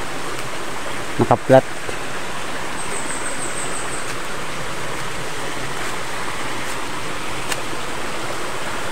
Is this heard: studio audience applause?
no